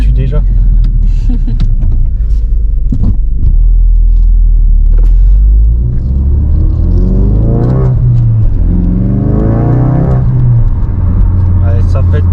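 A car's modified exhaust revs loudly and close, a deep rumbling roar that rises and falls several times, with a lighter valve-like rasp, while people talk over it.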